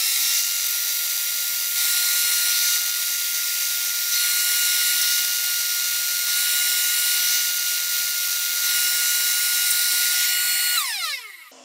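A wooden part for a flatbed toy truck being sanded: a steady, loud whirring, abrasive roar that runs unbroken for about eleven seconds, then winds down at the very end.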